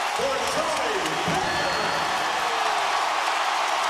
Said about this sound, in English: here's Tim Duncan leaving the game to the applause of the fans